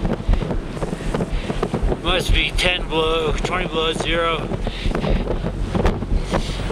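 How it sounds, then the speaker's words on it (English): Strong wind gusting across a freezing, icy mountain, roaring and buffeting the microphone in uneven bursts throughout while someone speaks over it. "Winds gusting up to 60 miles an hour"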